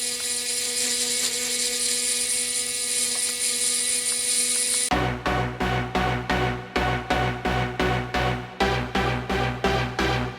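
A handheld rotary grinding and engraving tool runs with a steady high-pitched whine for about five seconds, then cuts into rapid, evenly spaced pulsing bursts at its highest speed, loud and close, with no voices.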